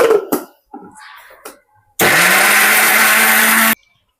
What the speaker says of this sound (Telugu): మిక్సీ పడుతున్నా చూసారా